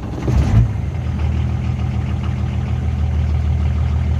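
A Nissan Patrol turbo diesel idles after a cold start: a brief louder burst as it fires, then a steady, even low rumble that carries on close by without any talking.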